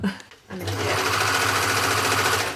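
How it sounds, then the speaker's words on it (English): An overlocker sewing machine whirs at a steady high-speed hum after a brief pause, close and loud, with a voice talking over it. "now I have to rethread my overlocker"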